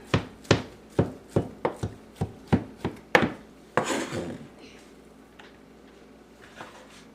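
A sharp knife chops warm, deboned, skinned cooked chicken on a board in a quick run of about ten crisp, evenly spaced knocks, then a scraping shuffle and near silence, close and without talk.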